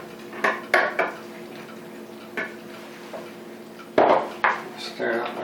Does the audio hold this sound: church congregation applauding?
no